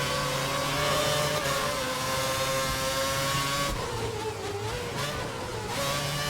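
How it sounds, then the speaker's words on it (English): A McLaren Formula One car in a racing video game set at the 2011 Brazil race drones with a steady, loud engine whine that dips and wavers midway as it passes, with no voices. "let the McLaren through."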